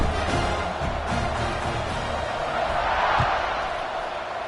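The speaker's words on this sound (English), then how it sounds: "this crowd is buzzing after that last score" A football stadium crowd buzzes after a score, a dense loud roar of many voices filling the air with a broadcast commentator talking over it.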